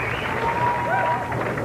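Bowling crowd at the 1993 Tums Classic, cheering and applauding during a King of the Hill match: a brief, steady wash of crowd noise and clapping heard at a distance.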